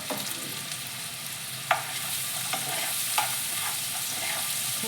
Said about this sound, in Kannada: ಇದು ಸ್ವಲ್ಪ ಎಣ್ಣೆ ಫ್ರೈ ಆಗಬೇಕು